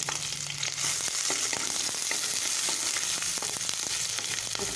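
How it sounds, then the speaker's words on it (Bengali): Green chilli and chopped ginger dropped into hot oil left from frying aubergine, a strong continuous sizzle and crackle with faint stirring scrapes, close and steady throughout. "এবার আমি ওই তেলের মধ্যেই কাঁচা লঙ্কা ফোড়ন দেব"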